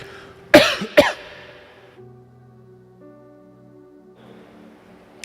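Two sharp, loud coughs in quick succession, followed by a quieter tonal hum and a faint click at the end.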